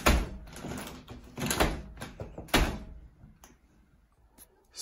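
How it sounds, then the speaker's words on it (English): A UPVC door with a stuck deadlock is worked open, giving a series of close, loud clunks, thumps and sliding rattles over the first few seconds before things go quiet. "So now that you have the door open,"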